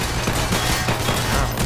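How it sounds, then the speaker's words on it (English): Dense, continuous gunfire from the video game Garry's Mod, a steady barrage of overlapping shots filling the whole stretch at constant loudness with no talk over it. "I'm hearing gunshots."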